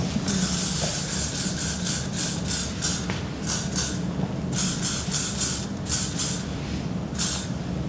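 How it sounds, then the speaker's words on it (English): Hairspray hisses from an aerosol can in a series of short bursts as it is sprayed to set a pixie cut, close and loud with brief pauses between sprays. "Let me grab a bit of spray and we'll lock it in there."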